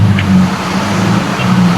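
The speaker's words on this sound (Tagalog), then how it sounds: "grabe ang traffic San Fernando" Steady engine rumble of cars in heavy road traffic on a flooded street in San Fernando City, Pampanga, a continuous low drone held close throughout with no voices.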